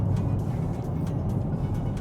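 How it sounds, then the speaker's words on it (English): An Audi RS6 Avant moves through weekend traffic, a steady low engine and road rumble heard from inside the car, constant and moderately loud with no voices. "just going for a bit of a drive of a weekend, going for a drive in a nice car"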